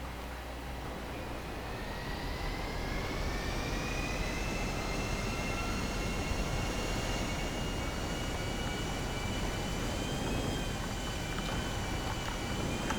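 A GTA V airplane flies steadily, its engine a loud, continuous drone with a rising whine layered on top, holding throughout without talk.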